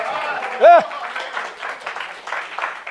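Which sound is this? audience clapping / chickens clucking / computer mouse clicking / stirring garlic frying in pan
audience clapping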